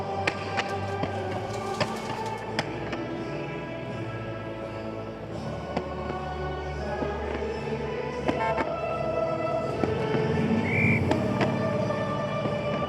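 Fireworks at Goodwood celebrating 70 years of Aston Martin crackle and pop in scattered bursts over a dense, continuous rumble, with sharp cracks standing out at irregular moments.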